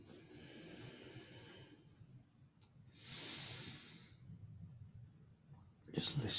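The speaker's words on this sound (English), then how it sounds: "Just listening to the sound of the breath." Slow, deep yoga breathing: close, airy hissing inhalations and exhalations come in long waves separated by quiet pauses.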